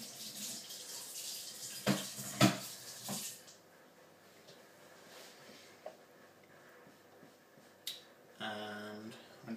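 A kitchen sink tap runs in a soft, steady trickle, with a few sharp knocks and clatters of a pot or dish early on and a louder gush near the end.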